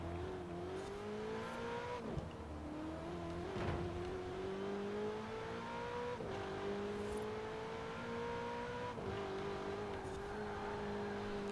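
In Forza Horizon 4, a Ferrari 488 GTB's engine drones and rises steadily through each gear. Sharp, brief shift-paddle clicks cut in at every upshift, about four across the run, over the constant engine tone.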